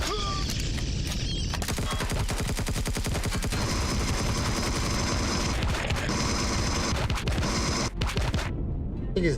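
Rapid gunfire in a video game rattles out in dense, loud bursts over a scraping mechanical clatter, the shots close and continuous for most of the stretch before easing near the end.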